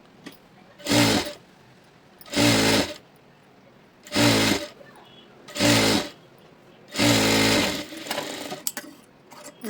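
A sewing machine runs in five steady bursts, stitching a folded lining on a blouse, each whirring run lasting about a second and separated by brief pauses, close and fairly loud with faint handling noise near the end.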